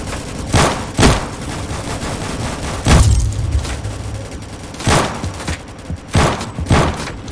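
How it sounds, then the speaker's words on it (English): Bursts of gunfire from the Roblox shooter Rolling Thunder crack repeatedly, loud and close, some single shots and some quick volleys with heavier booms mixed in, over a constant background of battlefield noise. "Oh, I'm getting shot."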